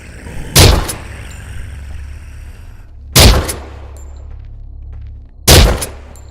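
Three loud single gunshots fired one-handed in the VR zombie shooter Surv1v3, each a sharp blast with a short ringing tail, spaced a couple of seconds apart over a low hum.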